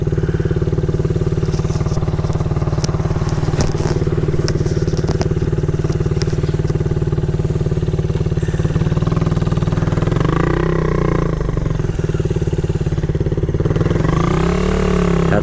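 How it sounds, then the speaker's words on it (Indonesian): A Suzuki Belang motorcycle engine and exhaust running during a test session, heard as a loud, steady, close idle throughout with rising revs near the end, while someone talks over it. "hari ni adalah testing session untuk Suzuki Belang A punya sang Nujuna kan"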